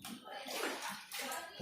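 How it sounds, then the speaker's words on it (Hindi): Water is poured steadily into a potted plant for a second or two, a continuous splashing gush that is close and fairly loud. "केवल इस पौधे में पानी भर देना है खूब"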